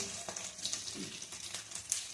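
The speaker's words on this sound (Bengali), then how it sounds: "ওখানে পেঁয়াজ ক্যাপসিকাম সব ভাজা হচ্ছে" Onion and capsicum, with ginger and garlic, sizzle in a frying pan. A soft, steady fry hiss with a few light crackles and small stirring taps, fairly quiet and close, with no one speaking.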